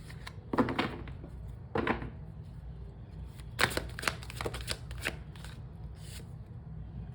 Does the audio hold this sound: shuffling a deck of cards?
yes